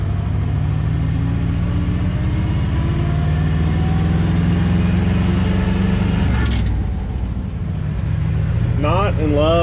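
A 1969 Dodge D100 pickup with a 3-speed Hurst shifter drives on the highway, its engine droning steadily with a low rumble that rises, then eases off as it shifts, with a rising rev near the end.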